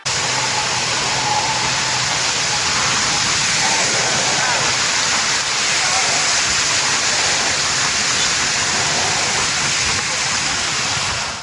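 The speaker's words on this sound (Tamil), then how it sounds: "காஞ்சிபுரம் வாலாஜாபாத்தில் இருந்து அவலூர் செல்லக்கூடிய கீழ்மட்ட பாலம் மேல் தண்ணீர் செல்கிறது" Floodwater from the Palar River rushes over a low-level bridge near Walajabad, Kanchipuram, a loud, continuous broadband roar that never lets up.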